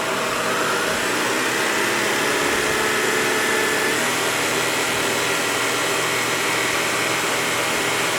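A Shark cordless vacuum cleaner runs on its low-carpet setting, a constant loud high-pitched motor whine with a faint rising tone and no pauses or voices.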